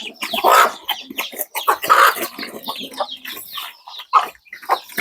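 Chickens cluck busily and close by while being fed broken rice, a dense chatter of overlapping calls with a few sharper squawks, loud and continuous.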